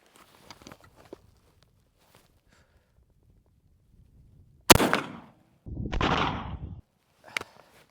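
Two loud, sharp shotgun blasts from a PW-87 firing Winchester slugs, each a sudden crack with a short decaying tail about a second apart, followed later by a faint click, with quiet handling noise before.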